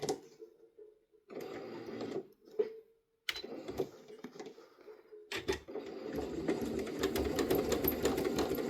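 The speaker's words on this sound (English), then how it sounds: "still using free motion stitching with my darning foot and my feed dogs down" A sewing machine doing free motion stitching through a darning foot with the feed dogs down, metallic pink bobbin thread and green top thread; bursts of fast, steady needle chatter start and stop, then run continuously and close.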